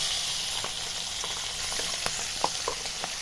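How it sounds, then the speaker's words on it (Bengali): Prawns frying in oil left over from frying potatoes give a dense, continuous sizzle with scattered crackles and light pops, close and steady, with no talk. "আলু ভাজা তেলেই আমি চিংড়ি মাছগুলো ভেজে নিচ্ছি।"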